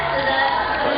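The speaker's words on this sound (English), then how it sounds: "There's the cheer." A home crowd at a climbing World Cup in Chongqing, China cheers and whoops loudly and continuously for a climber, a dense roar with no pause.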